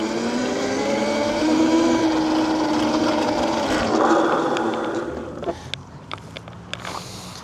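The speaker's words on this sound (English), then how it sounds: "this is where we're gonna do our brake test. Get up to about 20 here." A VALTINSU EM5 electric dirt bike whines loudly as it speeds up to about 20 mph in a parking lot, the motor tone climbing, then fading into a brake stop with scattered scrapes and clicks at the end.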